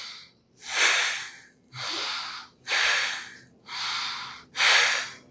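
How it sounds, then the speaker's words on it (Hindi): Slow, steady breaths in and out, five loud airy breaths close to the microphone in an even rhythm with short pauses between them, as in a lung capacity check, with no talk. "तो पहले नॉर्मल सांस लेंगे"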